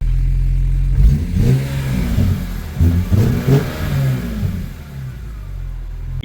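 A BMW E46 M3 with a newly fitted exhaust revs loudly up close, its engine rising and falling in several throttle blips over a steady idle rumble.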